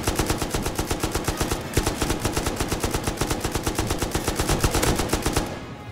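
An M249 machine gun in the game Rust fires a long, rapid, steady burst of loud, evenly spaced shots that continues for several seconds before stopping.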